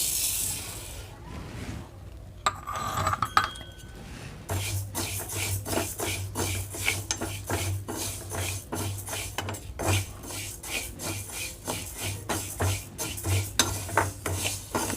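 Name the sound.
dry roasting moong dal in a pan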